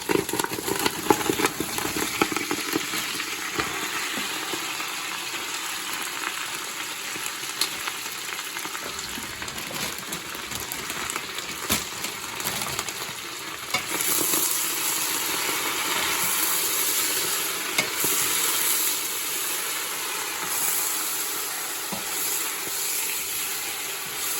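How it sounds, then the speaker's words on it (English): Spinach added to toasted garlic in a hot pan, giving a dense, steady sizzle that swells and brightens partway through and then continues evenly, with light stirring knocks early on. "Now I'm just gonna add the spinach to it."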